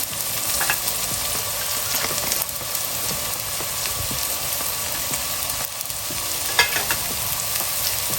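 Onions sizzle and fry steadily in a pan for a Tamil-style cauliflower tomato kurma, a continuous crackling hiss with occasional stirring clinks, close and fairly loud, with no voices.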